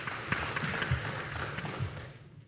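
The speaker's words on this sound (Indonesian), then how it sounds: "Mari kita berikan aplaus kepada kedua perseroan." Audience applause fills a hall at an initial public offering listing ceremony at the Indonesia Stock Exchange, a dense wash of clapping that fades out after about two seconds.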